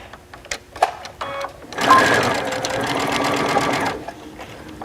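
A sewing machine backstitches a seam along a garment's decorative hem band, a steady dense run of rapid stitching for about two seconds after a few isolated needle clicks.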